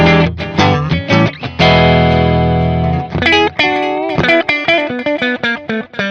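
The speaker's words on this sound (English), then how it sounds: "So this is the Kemper with the same settings, single delay, sounds like this." Electric guitar through a Kemper profiler with a single delay effect, playing a choppy run of notes, a sustained ringing chord, then quick phrases with distinct echo repeats trailing each note.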